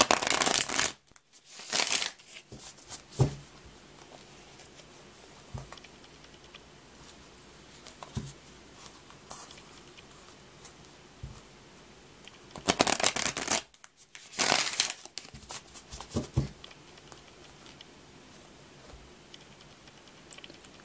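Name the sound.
shuffling tarot cards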